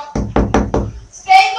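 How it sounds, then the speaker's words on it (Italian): Four quick, loud, evenly spaced knocks in a Minecraft game, hard and close, followed by a brief higher-pitched sound. "Ancora, bussate insieme a me."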